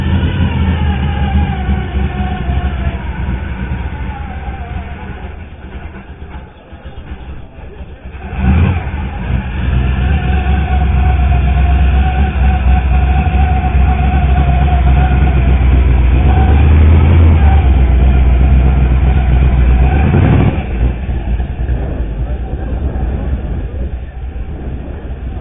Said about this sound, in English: And that's that Chevy C10 starting up. It does sound like it's got a supercharger in it.